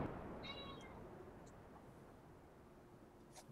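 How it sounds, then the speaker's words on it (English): A cat gives a short, faint meow early on against a quiet, steady background hum, followed by a few soft, brief chirps. "Don't know whether you heard that meow or not"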